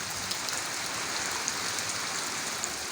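Heavy rain falling steadily, a dense continuous hiss of drops on surfaces with faint individual splats, close and unbroken.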